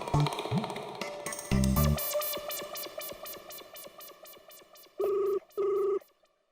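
A mobile phone rings in repeated electronic bursts, a tinny chirping ring that keeps going, ending with two louder tone pulses.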